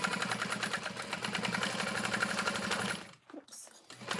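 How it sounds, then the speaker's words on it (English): A sewing machine runs a rapid, rhythmic stitching whir while it sews a satchel's bottom panel through the stabilizer. The sound runs steadily for about three seconds, then stops abruptly, leaving a near-silent pause with faint handling. "to attach this bottom panel, I'm sewing through the length of my stabilizer along the bottom"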